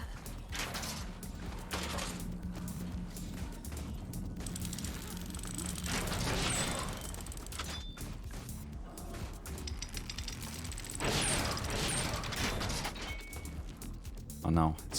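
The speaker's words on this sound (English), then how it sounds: "Oh no, it's another catapult." Catapult projectiles striking a defended base in a survival strategy game, with heavy crashing bursts and rumbling impacts recurring over a busy background of game noise while a player talks throughout.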